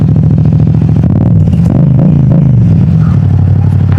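A Yamaha MT-07 motorcycle held in first gear in a small car park rumbles loud and close, its deep engine throbbing with a couple of brief rev rises in the middle before settling back to a steady idle.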